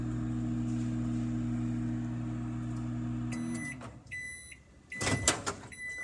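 A microwave oven heating marshmallows hums steadily for a few seconds, then stops and gives several short electronic beeps, followed by clunks as the door is handled.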